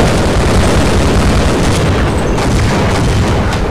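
Gunfire in the video game Half-Life booms loudly and densely, with heavy blasts and bursts packed back to back in a sustained barrage.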